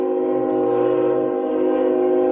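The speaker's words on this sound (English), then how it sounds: "You have some very loud trains." A loud passing train sounds a steady, sustained horn that holds at close range for the whole stretch, with no speech over it.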